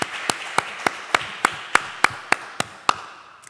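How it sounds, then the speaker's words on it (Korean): Clapping rings out during a Korean Sunday church service. About a dozen sharp, evenly spaced claps come close together at a brisk, regular beat and fade slightly toward the end. "하나님께 영광의 박수를 올려드리겠습니다"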